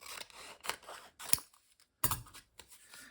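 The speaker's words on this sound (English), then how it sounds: "I think I will cut a little of this off because it is a very heavy paper." Scissors cutting through heavy paper, several crisp snipping strokes with brief pauses between them, close and fairly quiet with no talking.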